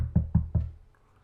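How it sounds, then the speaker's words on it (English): Three firm knocks on a door land in quick, even succession, close and loud, each thud ringing briefly before quiet returns. "Okay, so you knock on the door"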